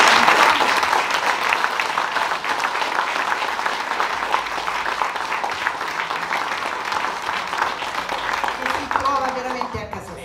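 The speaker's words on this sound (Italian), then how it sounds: "vorrei che faceste tutti un applauso di incoraggiamento" An audience at a book presentation in Lamezia Terme gives sustained encouraging applause, loud dense clapping that slowly tapers, with a voice starting to speak at the very end.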